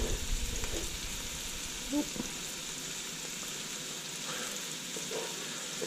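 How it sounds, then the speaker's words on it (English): Mushrooms and onion sauteing in a pan give a steady, moderate sizzle with a broadband hiss throughout, plus a few faint clicks and shifts as the pieces settle. "I'm going to put these mushrooms, the unsmoked mushrooms, in there. And saute them with the onion."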